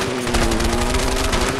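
Rapid automatic gunfire comes from a gun fired off a moving bike in the A Way Out video game, a loud continuous burst of fast repeated shots over a droning engine hum, with no talking.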